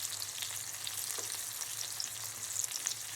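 Dried fish (bulad) frying in a pan makes a bright, continuous hiss and crackle, close and steady, with tiny spits of oil throughout and no voices.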